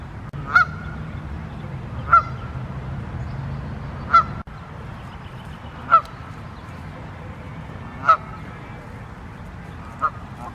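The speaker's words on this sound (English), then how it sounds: "I hear the geese behind me." Geese honking in a park on a disc golf course near a pond, a series of loud, sharp honks spaced roughly every two seconds over steady outdoor background noise.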